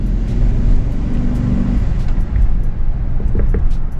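Mercedes S-Class sedan pulling hard under acceleration, a deep, steady, close-up engine roar with road and wind rumble from inside the cabin, no voices.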